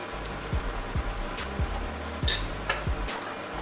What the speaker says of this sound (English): So we are frying them in some olive oil.